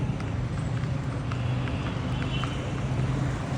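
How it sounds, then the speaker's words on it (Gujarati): Steady clip-clop of horse hooves trotting along, with a constant low rumble of traffic or wheels underneath. "જો એકદમ જાય છે બ્લેક ઘોડી"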